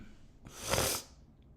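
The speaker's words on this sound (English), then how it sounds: "I'm sneezing up this like nasty." A single sharp sneeze from allergies, close and brief, rising from a quiet breath and fading out.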